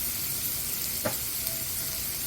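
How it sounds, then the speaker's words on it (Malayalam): Onions sauté with salt in a pan, a continuous soft hiss and sizzle with one brief scrape of a spoon midway, steady and close. "ഇതിനൊന്ന് വഴറ്റിയെടുക്കണം. കുറച്ച് നേരം വഴറ്റാൻ ആവശ്യമുണ്ട്."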